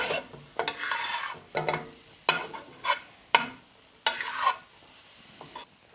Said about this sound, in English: I'm going to go ahead and throw sausage back in this. Get this all mixed up together.